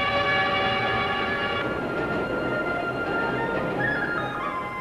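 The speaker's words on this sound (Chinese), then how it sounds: "列车从襄樊西行，驶过湘渝线上最长的仙人渡汉江大桥，进入险峻的武当山区。" A train runs on the Xiangyu railway in the Wudang mountain area after crossing the Xianrendu Han River bridge, a loud continuous rumble with a long sustained horn blast, steady wheel noise carrying through.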